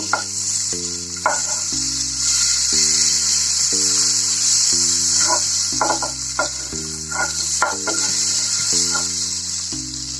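Butter melts in a pan for stovetop tandoori chicken with a continuous bright sizzle and soft spitting pops, steady throughout under background music.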